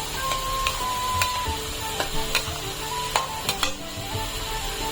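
Cooked rice with melted jaggery and saffron milk for coconut rice (narali bhat), stirred and sautéed in a pan on very low gas; a soft, continuous sizzle with light scraping clicks over a steady hum.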